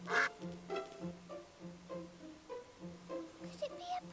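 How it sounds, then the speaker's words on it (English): Cartoon duck quacking in the My Friend Peppa Pig video game, a steady run of about eight evenly spaced nasal quacks at moderate level, with a bit of background chatter toward the end. "No, it's a duck."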